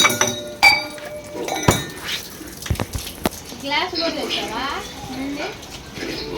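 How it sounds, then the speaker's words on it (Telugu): A glass falls to the floor and clinks sharply a few times near the start while people talk over a busy room background. "ఒరే ఆ గ్లాస్ ఎక్కడ గ్లాస్ రా కింద పడ్డది"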